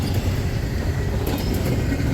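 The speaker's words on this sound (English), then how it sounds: "Today's 265 has trash containers up front bound for Michigan, while the rest of the train is bound from Chicago" A loaded freight train carrying trash containers rolls past at close range, making a loud, continuous rumble with light clatter and a few brief squeals from the wheels.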